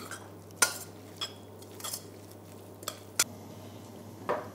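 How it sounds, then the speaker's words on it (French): A spoon stirs chopped parsley into cooked mushrooms in a dish, giving faint, scattered clinks and scrapes over a low steady hum in a quiet kitchen. "On va mélanger le persil à nos champignons."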